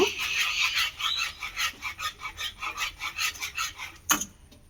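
Sugar stirred into a milk and flour batter makes a rhythmic, close swishing rub about four times a second, ending with a single sharp knock against the bowl.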